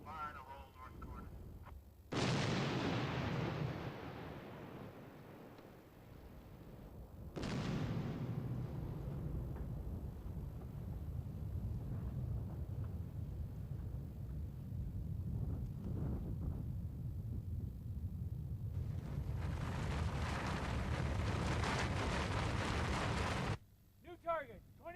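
Artillery fires for avalanche control on a snowy mountain slope at Kootenay Pass, British Columbia: several loud booms, each trailing into a long rumbling roar and rolling echoes, with voices at times.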